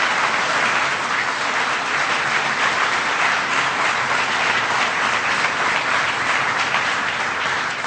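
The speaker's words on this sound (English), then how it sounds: "So give yourselves a big round of applause." Large audience at a President Obama speech at Hudson Valley Community College in Troy, New York, gives a long, loud, unbroken round of applause filling the hall, with no voices rising above it.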